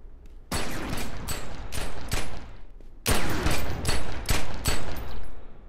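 Semi-automatic pistol fire from a skill in the video game Outer Ring rattles out in two loud clusters of rapid shots. A brief gap separates the clusters, and each shot ends in a sharp crack with a fading tail.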